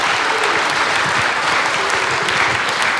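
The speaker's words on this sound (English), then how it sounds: "Give Elena a round of applause" An audience at a school choir concert claps for a singer, a dense, loud burst of applause that holds steady for the whole few seconds with a faint crowd murmur.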